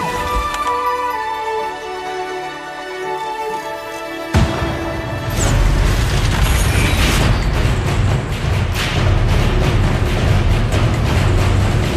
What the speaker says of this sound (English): Who's ready for some fireworks?